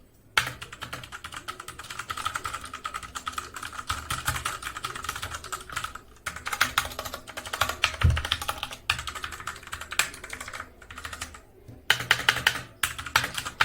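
Fingers type steadily on a Cosmic Byte mechanical keyboard with Outemu Red switches, giving a fast, dense clatter of key presses with occasional heavier spacebar thumps and brief pauses, close and alone.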